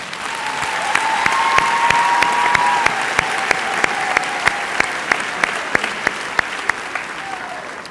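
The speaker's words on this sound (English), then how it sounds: "let's give the parents a round of applause" A high school graduation crowd claps for the parents in a sustained, even round of applause, with a few sharp louder claps standing out near the microphone and a faint voice drifting over the top.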